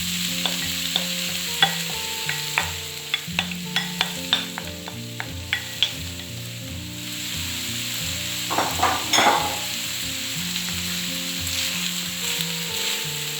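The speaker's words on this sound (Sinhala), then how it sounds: "මේ බත් ටික විනාඩියක් විතර පොඩ්ඩක් ෆ්‍රයි කරගන්න ඕනේ." Cooked rice frying and being stirred in a pan for bacon and egg fried rice: a steady sizzle broken by a run of sharp utensil clicks against the pan, then a brief louder scraping burst, all over background music.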